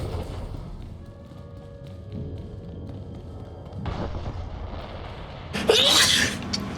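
One sharp, loud human sneeze bursts out near the end, following a low steady background hum with a few soft knocks.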